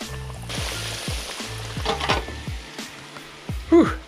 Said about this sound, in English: Drop your fish in, make sure it starts sizzling.